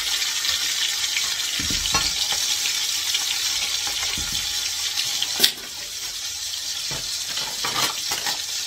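Food heating and cooking in a frying pan, before prawns are added: a steady hiss and sizzle with water-like splashing and a few light clinks.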